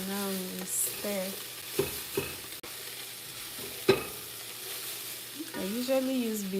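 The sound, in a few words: stirring vegetable sauce in a big pot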